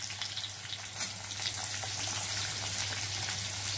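Chopped onion sizzling in hot oil for chow mein, a continuous close hiss and crackle that swells slightly louder after the first second, heard alone.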